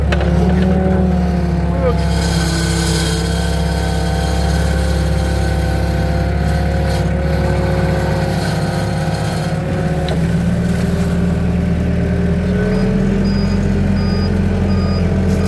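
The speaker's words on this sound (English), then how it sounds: "Can't really run the skid steer one-handed." A skid steer loader runs steadily nearby in a wet, muddy heavy-use livestock area. Its diesel engine drones throughout with a whining hydraulic tone, and it shifts slightly as the machine reverses.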